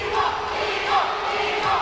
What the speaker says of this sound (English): As the DIMO crowd comes alive